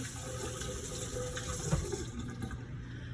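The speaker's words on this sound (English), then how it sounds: "I'm gonna rinse my hands really quickly." Hands are rinsed under a running kitchen sink tap, a steady quiet splash of water throughout.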